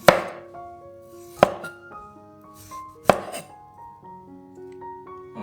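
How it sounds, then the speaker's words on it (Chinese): Red chilies are sliced diagonally with a knife on a chopping board, giving three sharp, widely spaced chops over a soft tonal background that sounds like music. "红辣椒也一样打斜切片放到碗里备用"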